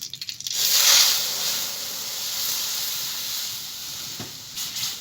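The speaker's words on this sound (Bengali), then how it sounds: "এবার কড়াইতে আমি দুধ দিয়ে দিচ্ছি।" Milk poured into hot ghee in a wok gives a loud, sudden sizzle that settles into a steady hiss and bubbling, continuing for several seconds.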